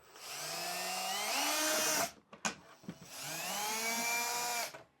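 Power drill loosening Phillips head screws on the shroud of a Furrion Chill Cube RV air conditioner, two sustained whirring runs of about two seconds each separated by short clicks and rattles, close and loud.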